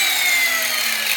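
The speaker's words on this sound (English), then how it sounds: "we now have a little sanding disc on the grinder." An angle grinder fitted with a sanding disc works plastic on an off-road bumper for a 2022+ Nissan Frontier Pro-4X, producing a steady, high-pitched whirring grind held at close range with no talking.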